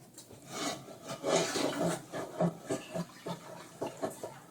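Soda being stirred into a gallon of water, heard as close, rough scraping and swishing strokes in an uneven repeating rhythm, growing louder midway, with no talking.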